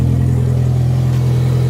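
A Toyota MR2 Turbo with an open downpipe idles loudly and steadily up close, its deep exhaust drone constant throughout, with no voices.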